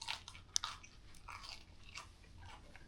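A crunchy churro-like snack is bitten with one sharp crack, then chewed in a steady run of close, dry crunches with no talk.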